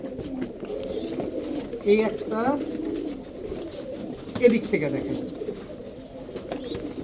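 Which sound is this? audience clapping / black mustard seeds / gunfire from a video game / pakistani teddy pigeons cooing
pakistani teddy pigeons cooing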